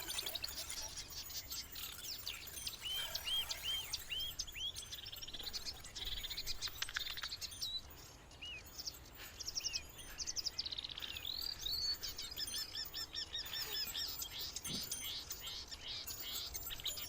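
A marsh warbler sings a rapid, varied stream of chirps, trills and mimicked phrases, fairly faint and distant, continuing over a steady low background hiss with no talking.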